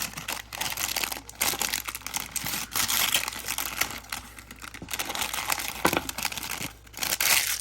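A small plastic accessory bag for a Cody Rhodes ultimate edition action figure is ripped and crinkled open up close, a steady run of crackling, tearing plastic with brief pauses between bursts.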